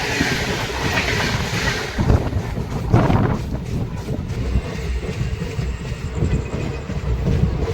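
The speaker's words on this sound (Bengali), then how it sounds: "অমৃত ভারত লিবড়ির লোকোমোটিভের সাথে Howrah Malda town intercity express." Howrah–Malda Town Intercity Express hauled by an Amrit Bharat livery locomotive rumbles past, with a broad, steady roar of wheels and carriages, a couple of sharper knocks, and wind buffeting the microphone.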